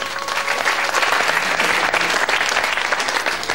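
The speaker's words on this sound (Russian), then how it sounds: "Ваши аплодисменты еще разок." Steady, dense applause from a large theater audience at a comedy duo performance, loud and sustained throughout with no pauses.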